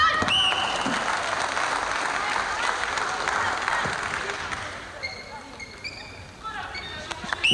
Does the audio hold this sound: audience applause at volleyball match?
yes